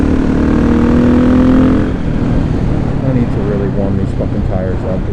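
Motorcycle on knobby tires riding hard with a loud, close engine drone and shifting revs under constant wind roar.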